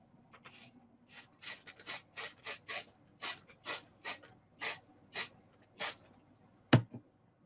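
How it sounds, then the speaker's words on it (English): An aerosol can sprays over a garbage can during stencil work with masks, in about a dozen short, crisp hissing bursts spaced at a steady rhythm, with a sharp knock near the end. "So let me just spray it over my garbage can."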